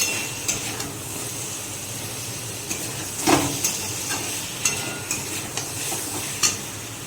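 Curd chicken with kasuri methi being sautéed in a pan, a steady low sizzle under repeated scraping stirs and occasional metallic clinks of a spoon against the pan, close by with no talking.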